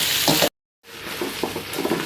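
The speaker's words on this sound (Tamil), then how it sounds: "இப்போ இந்த கட் பண்ணி வச்ச சீராளத்தை கொட்டிக்கலாம். கொட்டிட்டு நல்லா கிண்டி விட்டுக்கோங்க." Cut coconut seralam pieces are stirred in hot frying oil, a loud hissing sizzle with scraping strokes of a spoon, briefly cut to silence before the frying resumes at a slightly lower level.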